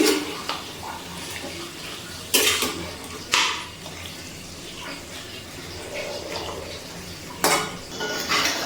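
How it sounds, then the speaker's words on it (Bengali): Chicken for Chicken Patiala being stirred in a pan over a medium gas flame, with a steady low kitchen hiss and a few sharp metallic scrapes and clinks of a utensil against the pan, close by and with no voices. "মিডিয়ামে দিয়ে একটু নাড়াচাড়া করে নিচ্ছি"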